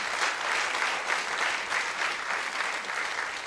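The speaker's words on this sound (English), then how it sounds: "A big round of applause for them in absentia" Seminar audience gives a round of applause, a dense, sustained clapping from many people indoors at a steady level, with no voices over it.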